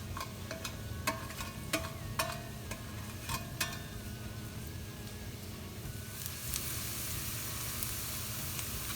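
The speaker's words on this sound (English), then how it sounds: "now this has been sauteing for maybe a minute" Onion sautés in oil in a pan for a minced-meat taco-style filling, making a soft, even sizzle. A run of metallic stirring taps rings out early, then the frying settles into a steady hiss.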